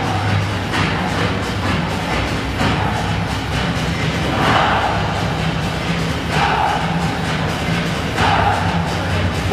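Drums booming at the Guangzhou Asian Games opening ceremony in a huge stadium, steady rhythmic beats under a dense, continuous crowd roar with periodic louder swells.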